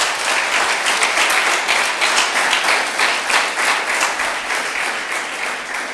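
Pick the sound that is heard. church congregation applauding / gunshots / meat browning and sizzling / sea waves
church congregation applauding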